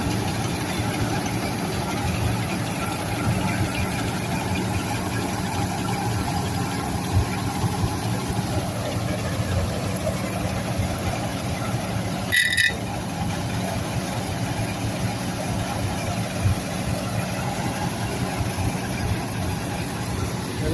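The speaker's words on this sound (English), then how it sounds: "Here we have the massey Ferguson." A vintage Massey Ferguson tractor engine idling at a harvest day, a steady low rumbling drone throughout, with a brief sharp click midway.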